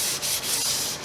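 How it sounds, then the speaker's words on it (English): Close, continuous rasp of sandpaper rubbed by hand over a wooden panel gauge part, with brief dips in the scratchy hiss as the strokes change direction. "But I'm sanding it now."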